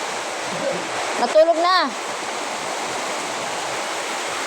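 Rain drips and pours steadily at night after an earthquake, a constant rushing patter throughout, briefly interrupted by a short spoken phrase.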